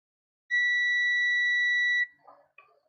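Multimeter continuity beep while testing a Baseus 3-in-1 USB charging cable: one steady high-pitched tone lasting about a second and a half, clear and close, followed by faint handling clicks.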